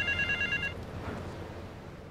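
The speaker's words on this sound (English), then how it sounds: "The phone is ringing!" A telephone rings in Grand Theft Auto 3, a short trilling electronic ring heard once for under a second, then fading into quiet game background noise.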